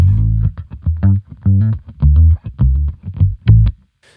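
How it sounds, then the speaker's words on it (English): An electric guitar runs through an octave pedal into a bass amp and plays a deep, fuzzy, bass-like phrase of short choppy notes with clear gaps between them, loud and close with no speech. "My guitar is running through an octave pedal and then through a separate signal into a bass amp"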